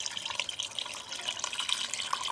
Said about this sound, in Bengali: তো এখন দুধ চিতের ভিতরে আমি দুধগুলো ঢেলে দিব।